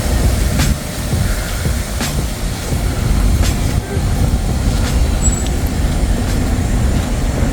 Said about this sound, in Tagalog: Ayun yung tren.